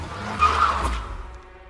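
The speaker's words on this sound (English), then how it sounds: "The car veered greasily to the side in a fine spray of slosh." A car skids and swerves on a slushy road, a low rumbling slide with a brief hiss of spray that peaks early and trails off as the vehicle slows.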